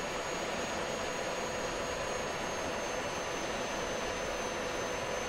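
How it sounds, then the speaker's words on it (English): An F-16 in a flight simulator game lands itself at Ramat David airfield, its steady jet engine roar forming a constant broadband hiss and rumble with a faint high whine, unbroken for several seconds and with no talk. "And now you just watch as the airplane kind of lands itself."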